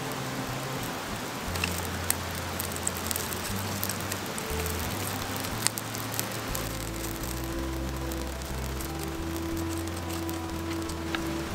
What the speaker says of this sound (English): It is starting to rain, but that's all right.